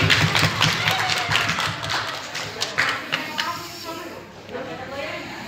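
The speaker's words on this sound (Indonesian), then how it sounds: "Oke, tepuk tangan dulu." Audience clapping hands during a training session: a burst of scattered claps that fades gradually, mixed with voices talking and some thumps in a room.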